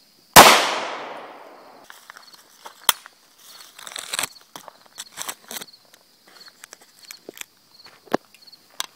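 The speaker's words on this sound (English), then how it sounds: "Here's our level 2 NACA body armor panel with a clay backer versus our standard 9mm, 115 grain, approximately 10 feet, 4-inch barrel." A 9mm 115-grain FMJ round from a 4-inch barrel strikes a level II body armor panel with a clay backer at about 10 feet: one sharp, loud shot that rings out briefly, followed by faint scattered handling clicks and rustles.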